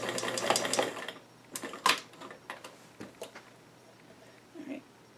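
A sewing machine stitches doll-sized jeans in a short close burst, followed by scattered clicks and handling knocks, with a faint low hum underneath.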